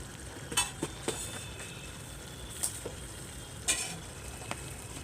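Goat meat with garam masala being stirred in a pot, a soft continuous sizzle with a few scattered sharp metallic scrapes and clinks of the spoon, close and fairly quiet, no voices.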